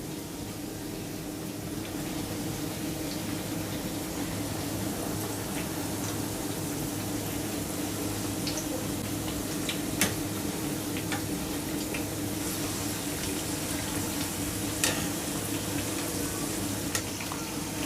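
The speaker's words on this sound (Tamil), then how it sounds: "இதே மாதிரி தான் நம்ம ஆயிலில் வடையை தட்டி போடணும்" Banana flower vada patties frying in hot oil, giving a steady, close sizzle and bubbling throughout, with occasional sharp pops and crackles breaking through.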